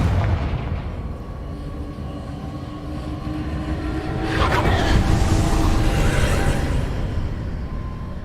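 A Confringo fire spell in Hogwarts Legacy erupts into a long, loud rumbling blast that swells midway and keeps roaring over a dense low background, with no clear talk.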